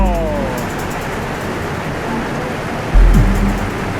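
Flash flood water rushes through a village in Batang, Central Java, as a loud, continuous roar that swells briefly near the end, with no voices.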